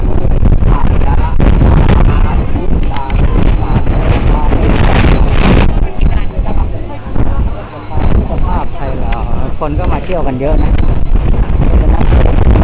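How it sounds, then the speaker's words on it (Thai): Strong wind buffets the microphone on a bridge over a river, a loud, continuous rumbling roar with gusts throughout while a person speaks. "นี่ลมลมแรงมากๆเลยวันนี้"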